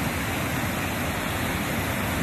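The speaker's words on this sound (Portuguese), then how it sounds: "o açude sangrando" Water overflows the spillway of the Riacho dos Cochos dam in Igaracy, Paraíba, a steady broadband roar that holds constant throughout with no talking.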